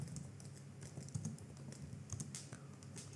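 Steady quiet computer keyboard typing while writing Apex trigger code, a continuous patter of soft key clicks under a low background hum.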